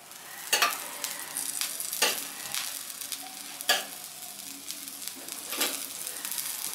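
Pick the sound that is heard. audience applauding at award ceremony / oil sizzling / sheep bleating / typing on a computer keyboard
oil sizzling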